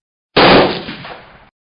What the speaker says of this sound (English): And then, a single gunshot.